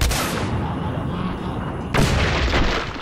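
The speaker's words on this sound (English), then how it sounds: "Oh, I forgot to mention, the bullets explode." Exploding bullets from the Seeker gun in the video game Singularity burst in a dense, loud roar of blasts that fills the whole stretch, with a fresh heavy detonation hitting about two-thirds of the way through.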